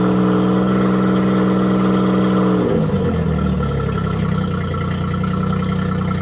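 A boat's inboard engine running steadily with a strong harmonic drone, then its pitch sweeps downward as the revs drop and settle into a lower, rougher hum, close and loud.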